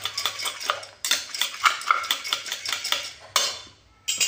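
A knife scraping and clinking against a bowl while a mixture is mixed, irregular metallic taps and scrapes in bursts, with brief pauses between strokes.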